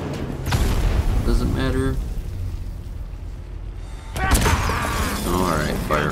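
A bomb explodes in Batman: Arkham Knight, a heavy booming burst under a man's speech, with a second loud crash and crackling debris a few seconds later.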